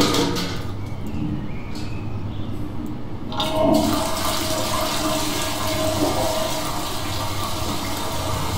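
Toilet flushing in the horror video game SOMA, starting quietly before a sudden rushing surge of water that swirls and drains at a steady level for several seconds, with no voices.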